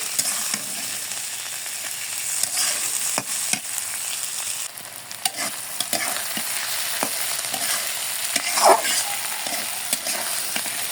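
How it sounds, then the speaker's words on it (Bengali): Banana stem and egg stir-frying with nigella seeds in a pan, a continuous close sizzle broken by frequent clicks and scrapes of a spatula stirring, with no voices. "কালো জিরা দেওয়ার পরে আর একটু ভেজে নিলাম।"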